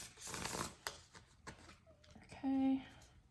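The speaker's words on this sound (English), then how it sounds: "Shuffle a little bit more." Tarot cards are shuffled by hand in bursts of soft papery riffling and flicking, with a few brief tones and faint room noise between the bursts.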